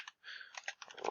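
Quick, faint clicks of typing on a computer keyboard, a short burst of keystrokes close by.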